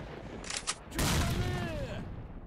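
A single grenade explosion booms in S.T.A.L.K.E.R.: Shadow of Chernobyl, followed by falling whistling tones and debris, fairly loud after brief faint chatter.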